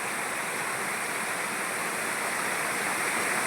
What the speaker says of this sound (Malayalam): കരിങ്കല്ലുകളിലൂടെ വെള്ളം ഇങ്ങനെ ചാടി താഴേക്ക് വീഴുന്ന ആ ശബ്ദമാണ് കേൾക്കുന്നത്.